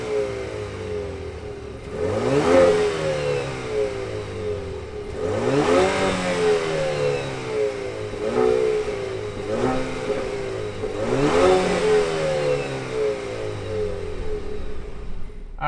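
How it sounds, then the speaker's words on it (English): The turbocharged four-cylinder engine of a 2021 Chevrolet Camaro LS idles, then revs up sharply about four times, each rise climbing and falling back to a steady idle, loud and close, with no talking. "why don't we fire up this 4-banger turbo and hear what it sounds like"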